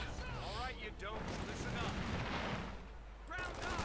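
Pioneer infantry in the WWII strategy game Company of Heroes 2 trading small-arms fire around a small shed during a 1v1 match: a dense, steady crackle of gunshots filling the whole stretch, with voices briefly heard over it.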